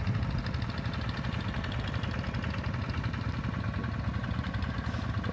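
A tractor engine runs steadily nearby on farmland being irrigated, a continuous low mechanical drone with a rapid throbbing pulse, fairly loud and unbroken throughout.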